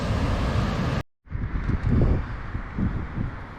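Gusty wind buffets the microphone at a rough, windy beach in Sorrento, a steady broadband roar that cuts out briefly, then returns in surging waves, loud and close.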